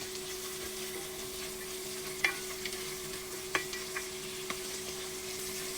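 Garlic, onion and ginger sauté in a pan with a faint, even sizzle and a low steady hum, punctuated by a few light clicks of stirring.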